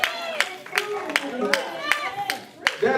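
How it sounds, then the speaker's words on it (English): A church congregation claps along in steady, evenly spaced beats, with sharp individual claps cutting through loud voices and singing-like speech throughout. "Somebody clap your hands."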